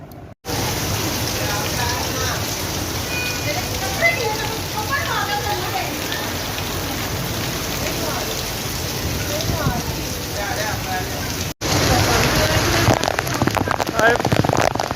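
Heavy rain pours down on surfaces in a steady, dense roar, loud and close, with a brief cut partway through and harder, harsher rainfall after it.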